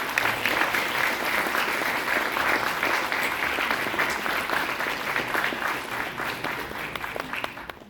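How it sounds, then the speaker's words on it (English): Sustained applause from a literature festival audience at the India Habitat Centre in New Delhi for a German author, a full, even clapping crowd that carries on for the whole stretch with no letup. "Big round of applause for Jackie Thomae for Germany."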